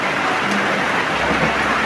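Steady, dense rain falls without a break, a loud continuous hiss of drops close by in mountain country.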